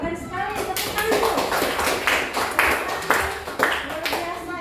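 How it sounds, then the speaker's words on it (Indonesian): A high school class claps hands together in a classroom, a few bursts of brisk, fairly close clapping with voices talking alongside. "Tepuk tangan dulu."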